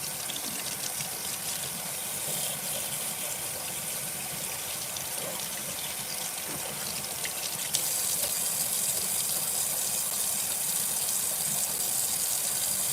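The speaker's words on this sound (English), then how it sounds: "I'm going to be washing and conditioning her hair." Tap water runs steadily into a sink while a doll's head has its hair washed and conditioned, a constant close gush that grows slightly louder partway through, with no talking.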